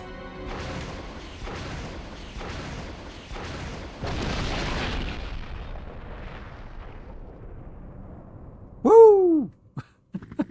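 A rocket launcher fires and its rocket explodes in the Resident Evil video game on Nintendo GameCube, with a run of rumbling blasts that fade out, then a sharp swelling boom and a couple of short echoing hits near the end.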